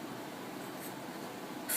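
Pen or marker scratches out a math equation in a short steady stroke of writing on a surface, close and fairly quiet with no talk.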